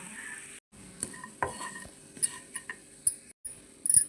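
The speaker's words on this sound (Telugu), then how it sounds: "ఇందులోనే మన కరివేపాకు పొడిని కూడా వేసుకొని ఒకసారి వేపించుకోవాలి." Curry leaf powder and peanuts fry in a pan while a spoon stirs, giving soft sizzling broken by scattered light scrapes and clinks of metal against the pan.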